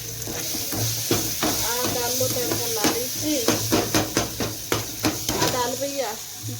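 Hot oil sizzles and crackles steadily as spices hit the pan for tempering dal, with someone talking over it and occasional stirring clatter.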